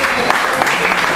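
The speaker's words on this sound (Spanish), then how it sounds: "Fuerte el aplauso si es para el Señor" Loud, dense clapping from a church congregation during a service, a short steady burst with a few sharper claps standing out.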